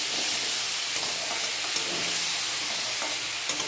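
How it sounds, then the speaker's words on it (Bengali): Mixed vegetables for dal fry in a pan with a dense, even sizzle and hiss, joined by stirring scrapes, close and steady throughout with no talk. "এবার ভালো করে এটাকে ভেজে নেব।"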